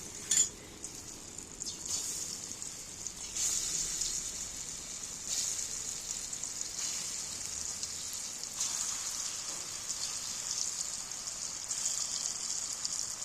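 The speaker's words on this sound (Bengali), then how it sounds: "তেলটা আমার ভালোই গরম হয়ে গেছে তবে ওইগুলো যখন ভাজবে তখন একটু তেলটা কড়া করে নিতে হবে" Beet pieces frying in well-heated oil in a pan for a vegetarian beet curry, giving a steady, bright sizzle throughout with a few louder crackling bursts as pieces settle.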